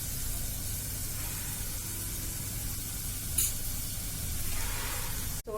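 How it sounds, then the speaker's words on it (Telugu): Sliced onions fry in oil in a pan for a bottle gourd and moong dal curry, making a steady, even sizzle and hiss, with a brief clink near the end and no talk. "సో ఈ ఆనియన్స్ ఇలా ఒక 2 to 3 minutes ఫ్రై అవుతూ ఉంటాయి."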